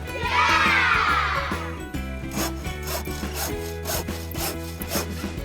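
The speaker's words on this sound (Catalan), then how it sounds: "El primer que farem, i amb molta cura, és tallar la canya amb una serra." A hand saw cuts through a length of cane between two nodes, its strokes rasping in a steady back-and-forth rhythm, close and fairly loud over a continuous low tonal hum.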